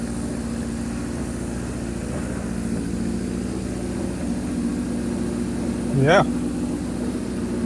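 Suzuki GS750 motorcycle engine idling steadily at close range, a continuous low throb with even harmonics, and a short spoken word near the end.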